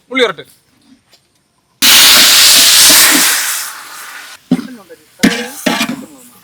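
Garlic dropped into hot oil for a large batch of quail biryani bursts into a loud, close hissing sizzle that gradually fades, with someone talking before and after.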